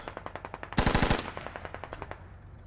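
Coaxial machine gun on a BTR armoured vehicle in the Squad video game firing a rapid burst of about six shots, surrounded by fainter distant gunfire cracks.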